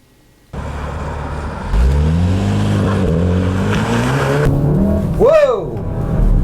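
A Volkswagen Golf R taking a corner sharply on a public road at about 30 mph in clear conditions, its engine droning and rising in pitch close by as it accelerates, with a voice talking over it.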